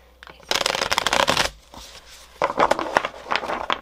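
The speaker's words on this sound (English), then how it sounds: "that was a bad shuffle." Cards are riffled and shuffled in two loud, crackling bursts separated by a short pause, close up with no talking.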